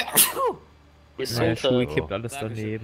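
A single sharp sneeze bursts out up close at the start, followed by a short quiet gap and then people talking in German.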